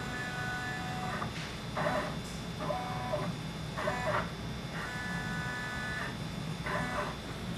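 An embroidery machine sews with a Hooptech clamp, making a steady motorized whir with repeating pulses and faint tonal whines in a regular rhythm, moderately loud and close.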